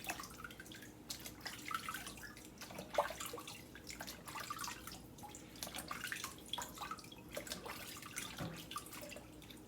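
Water splashing and dripping as a baby doll is bathed in a tub or sink: soft, irregular sloshes and trickles, faint and close by, with small drips scattered throughout.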